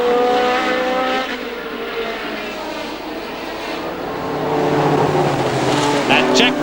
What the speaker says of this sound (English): Jack Brabham there, just lapping a slower car, still in the lead, increasing his lead, drawing away from Jochen Rindt.